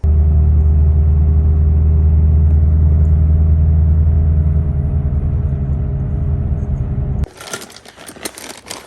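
An Infiniti G37's loud, steady low rumble and droning hum from a worn wheel bearing while driving, holding for about seven seconds before cutting off abruptly.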